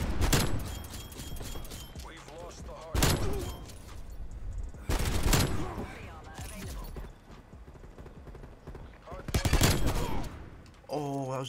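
Rapid AK assault rifle fire in Call of Duty Black Ops Cold War, with loud close bursts of automatic shots separated by quieter stretches of game ambience, footsteps and a voice talking in between.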